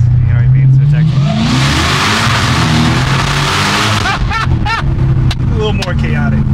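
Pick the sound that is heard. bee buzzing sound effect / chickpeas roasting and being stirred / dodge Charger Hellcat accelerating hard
dodge Charger Hellcat accelerating hard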